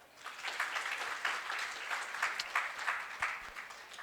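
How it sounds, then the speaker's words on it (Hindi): Audience applause during a training session, a moderate crowd clapping steadily for about four seconds, fairly soft and continuous with slight swells. "और सभी के लिए जोरदार तालियां।"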